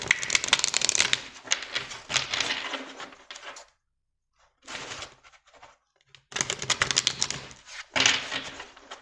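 Oracle cards of light are shuffled by hand in quick, crisp bursts of riffling and flicking, with short pauses between rounds, fairly close and fairly quiet.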